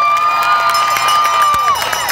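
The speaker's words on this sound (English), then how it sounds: "let's give a huge round of applause to Joey, Megan, and Cass" A crowd at an outdoor Pride event claps and cheers loudly and steadily, with shouts and whoops rising from the mass of people for a couple of seconds.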